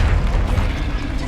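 Confringo blasting spell explosion in the Hogwarts Legacy video game: a heavy, sustained boom with crackling, rumbling debris, loud and close throughout the short burst.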